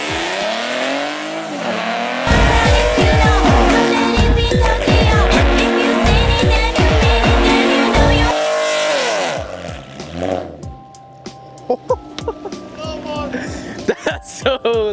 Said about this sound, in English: shout out to Umberto and his Mustang for being here and doing the burnout for you guys